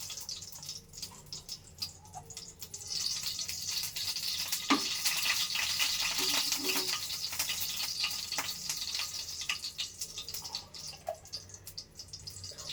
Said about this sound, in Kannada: ಚಟಪಟ ಆಗುತ್ತೆ.